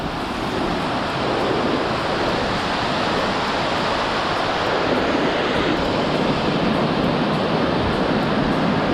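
Rushing Himalayan river near Gaumukh glacier in Uttarakhand, a dense, steady roar of fast water filling the whole clip, loud and close with no voices.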